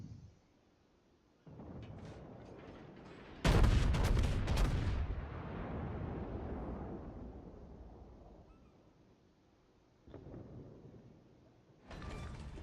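The battleship North Carolina in the naval video game World of Warships fires its main guns in a single heavy, booming salvo that rolls off slowly, with a few fainter mechanical clanks before and after.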